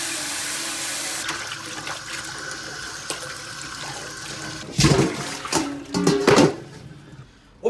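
A large pig's head is rinsed under running water from a kitchen tap, a continuous gush and spatter, close and fairly loud, with heavier splashing bursts as it is handled.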